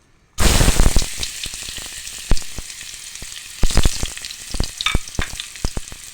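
Ginger hits hot oil in a pan with a sudden loud sizzle that settles into steady close frying, with scattered crackles and stirring clicks throughout; no talking.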